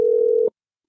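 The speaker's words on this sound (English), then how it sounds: "we're about to get Brian on the phone right now" A telephone call tone sounds while someone is being rung up for a radio-show interview: a single steady, clear tone lasting about half a second, then abrupt silence.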